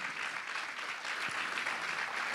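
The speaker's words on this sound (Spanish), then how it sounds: "Un aplauso a Cristo y a los jóvenes" A church congregation applauds at a Sunday service, a steady wash of many hands clapping at moderate distance that holds evenly throughout, with no talk over it.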